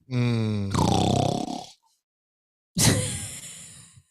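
A man imitates snoring with his voice, two loud throaty rasping snorts separated by a second of silence, close to the microphone.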